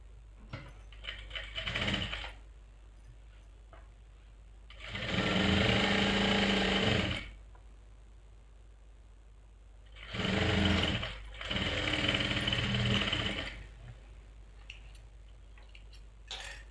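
A sewing machine stitches plazo panels in three separate runs, each a few seconds of close, rapid whirring and ticking, separated by quiet pauses.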